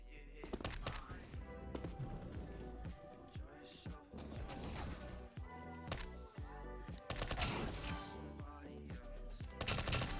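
Rapid automatic sniper rifle fire in CS:GO, dense repeated shots with bursts continuing throughout, loud and close, with voices faintly talking underneath.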